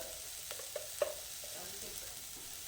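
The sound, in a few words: sautéing onion in a pan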